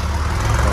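Tractor engine running steadily, a loud continuous low rumble heard close by for under a second.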